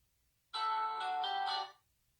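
A phone ringtone rings once for about a second, clear and tonal, while calling in to a live show, with silence before and after.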